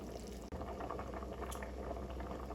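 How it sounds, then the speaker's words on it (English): Pinto beans boil in a pot with a steady, bubbling rumble and a constant hiss throughout, close and moderately loud, with a brief dropout partway through. "Once the beans has been boiling for a few minutes or something like that"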